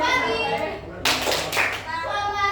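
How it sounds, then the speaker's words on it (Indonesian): Children in a classroom clap on cue: a sharp burst of many hands striking together at once, briefly ringing out between a teacher's sung or spoken phrases and children's voices. "kalau Ibu bilang selamat pagi, maka tepuk 1 kali"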